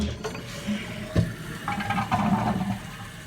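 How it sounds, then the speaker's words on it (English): A Kohler toilet flushes hard and clean, with a steady rush of swirling water and a sharper surge partway through, close by with no voices. "And when we flush, we're going to get a much cleaner, harder flush."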